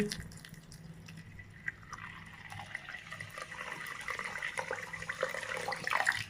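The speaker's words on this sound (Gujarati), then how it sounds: "હવે હું આમાં છે ને પાણી નાખી દઉં, ખાંડ ડૂબે એટલું." Water poured from a vessel onto sugar in a pan while making adadiya, a Gujarati sweet, giving a close, steady trickle and splash that slowly builds in loudness over several seconds.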